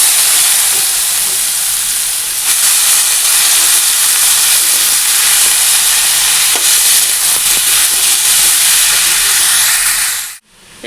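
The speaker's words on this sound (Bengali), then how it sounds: "কালো জিরা আর শুকনো লঙ্কা ফোড়ন দিয়ে একটু ভাজা ভাজা করে নেব।" Nigella seeds and dried red chillies tempering in hot oil give a loud, steady sizzling hiss that fills nearly the whole stretch before cutting off abruptly near the end, with faint clinks beneath.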